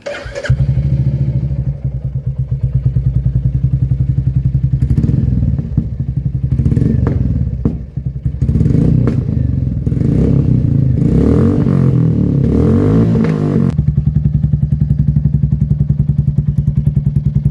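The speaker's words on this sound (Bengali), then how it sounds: "এবার আমি বাইকটাকে স্টার্ট করব আর এই এক্সস্টের আওয়াজটা শোনাবো" A Royal Enfield Bullet 350 fitted with a Cobra exhaust starts up and idles with a loud, deep, steady thump, revving harder through the middle before settling back to idle, close by with no talk.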